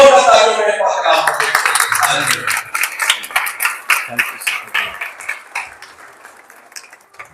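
A church congregation in Lahore breaks into applause after a spoken introduction, the clapping loud at first and then thinning and fading toward the end.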